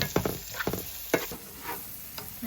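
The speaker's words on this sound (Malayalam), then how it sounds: "ഇങ്ങനെ തിളച്ച് അതിന്റെ എണ്ണ ഇങ്ങനെ പൊങ്ങി വിളകിനെ, എന്നാലാണ് നമ്മുടെ മീൻ കറി ആയി എന്ന് നമുക്കറിയാം." Fish curry bubbling in a pot, with soft simmering sizzle broken by several sharp clinks and scraping stirs, fairly close and quiet, with no voices.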